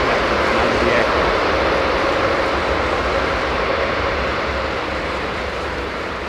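A jet airliner lands on a wet runway at London Heathrow on a humid day and brakes hard. Its loud, close, continuous roar of engines and spray holds steady, then eases slightly toward the end.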